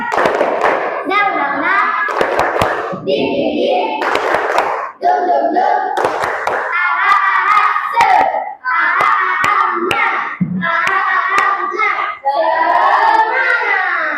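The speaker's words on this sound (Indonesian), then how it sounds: "Kita tepuk semangat ya. Coba, tepuk semangat." A group of junior high school students chant together while clapping in a quick rhythmic pattern, sharp hand claps punctuating their lively voices throughout.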